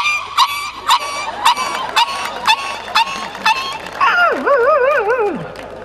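A voice imitates a dog crying after being hit with a brick, giving a series of short sharp yelps followed by a long wavering whine, performed in a comedy routine.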